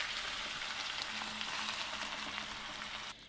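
Blended chicken tinga sauce hits a hot pan and sizzles, a dense, steady frying hiss that holds evenly and then drops off abruptly near the end.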